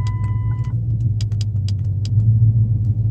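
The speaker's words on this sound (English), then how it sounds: "We'll start the car this time." A car with a 5.7 Hemi V8 engine turns over with a few sharp clicks and clatters, then settles into a low, steady idle rumble that swells slightly near the end.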